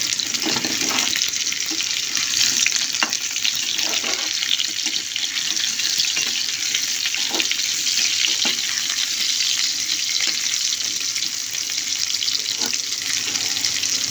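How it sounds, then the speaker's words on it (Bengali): Potatoes frying in oil left from fried onions for aloo dum, a steady close sizzle with occasional stirring clicks and no talk. "এখানে পেঁয়াজ বেরেস্তা তেলের মধ্যে দিয়ে দিচ্ছি আলু।"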